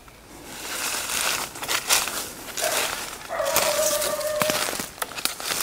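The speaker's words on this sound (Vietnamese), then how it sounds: "Chó sủa." A dog barks and whimpers in a wild forest at night, mixed with crinkling and rustling noise close by, with the barks coming through unevenly over a steady background.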